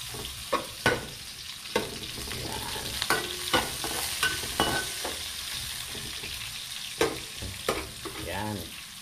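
Chopped onions frying in oil in a pan, a steady close sizzle with repeated sharp scrapes and knocks of a utensil stirring, plus a brief bubbling burst near the end; no talking.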